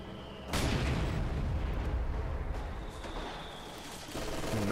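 A North rifle grenade goes off in a Company of Heroes-style match between Soviet and Ostheer forces. A sudden boom sets off a sustained rumbling roar of battle with scattered pops, fairly loud, with faint voices underneath.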